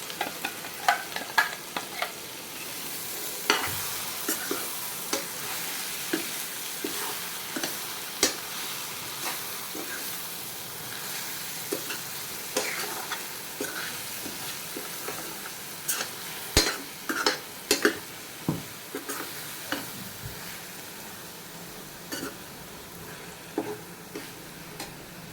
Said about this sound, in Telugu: మసాలా వేసుకొని వేగనిచ్చుకోవాలి ఈ వంకాయలతో పాటు